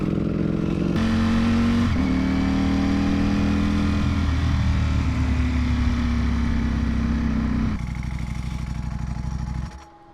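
A Ford Mustang engine revs and drops through a downshift, its pitch sliding as the rumble swells, then the engine note cuts off sharply at the end.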